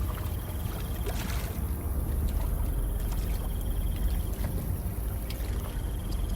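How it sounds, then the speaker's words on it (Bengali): Wooden oars pull a small boat across a pond, steady splashing water strokes mixed with a constant breezy wind hiss, close and unbroken throughout. "পলাশ নৌকার দাঁড় টানতে শুরু করে দেয়।"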